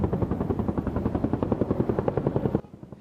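An attack helicopter flies in a Taiwanese army aviation exercise, its rotor chopping loud and close in a rapid, steady thump that cuts off abruptly near the end.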